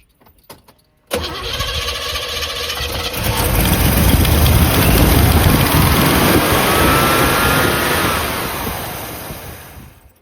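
A Chevy truck engine fitted with an Edelbrock-style aftermarket carburetor cranks and catches after a second of quiet, then runs steadily and loudly at a rough idle, swelling slightly before easing off near the end.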